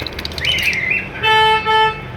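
Captive breeder-pair lovebirds or cockatiels, including an albino black split red-edge pair, chirp with a rising squeaky call, then a sustained tonal toot-like call repeated twice, close and fairly loud.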